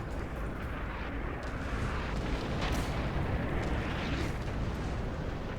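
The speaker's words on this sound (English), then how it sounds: "they are starting to shoot out the windows here" Gunfire rattles from building windows during a team battle in Red Orchestra 2, a rough, continuous wash of distant shots and rumbling explosions with no clear pauses.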